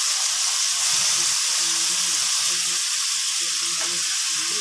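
String beans (sitaw) drop into a hot pan with onion for adobo, setting off a loud, steady sizzle and hiss that fills the whole stretch, with faint low clatter and no clear voices.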